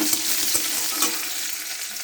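Onion sizzling in hot oil in a pan, a steady close frying hiss broken by a few soft stirring scrapes, with no talking.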